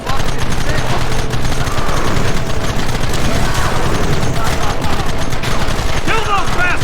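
Sustained, dense gunfire from Red Dead Redemption, loud and continuous rapid volleys of shots filling the whole stretch, with game voices shouting over the shooting.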